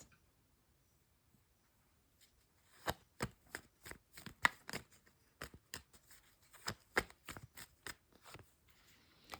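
Tarot cards are shuffled after a near-silent start, giving quick bursts of crisp riffling snaps and flutters in an irregular rhythm, close and fairly quiet.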